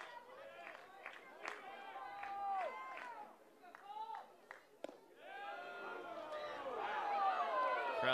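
Baseball crowd at a Kansas State versus TCU game reacting with displeasure, a broad wash of many voices swelling from scattered calls into sustained loud murmuring and shouts near the end.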